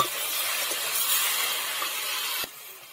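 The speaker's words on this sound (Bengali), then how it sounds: "ঢাকনা খুলে নিয়ে আবারও খুব ভালো করে কষিয়ে নিচ্ছি সবজিগুলো" Kohlrabi, eggplant and potato sizzle as they are stir-fried in a hot pan, a steady close hiss that drops away sharply near the end.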